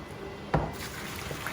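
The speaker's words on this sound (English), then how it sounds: "So just empty the water out." Boiled potato water tipped from a pot into a strainer in a home kitchen, a short clattering splash followed by a brief trickle, close and fairly quiet with no talk.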